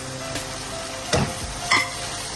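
Chopped capsicum dropped into a pan with softened carrots for white sauce pasta, giving a steady close sizzle with two louder stirring bursts partway through.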